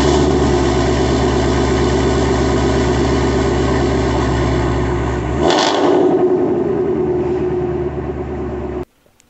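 A Toyota car's engine idles inside a garage, a loud, steady low rumble that shifts partway through and then cuts off abruptly near the end.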